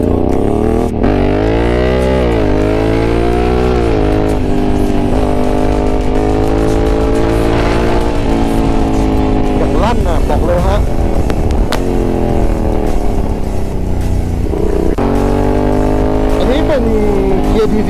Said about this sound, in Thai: เราอยู่กับ NT 100นะรถสปอร์ตทัวริ่งท่อลั่น